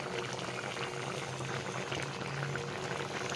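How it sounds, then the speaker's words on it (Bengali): Mustard curry with drumstick vegetables simmering in a pot, a steady close bubbling and low rumble of boiling liquid running throughout with no talk. "এবার একটুখানি ফুটিয়ে নিচ্ছি ভালো করে।"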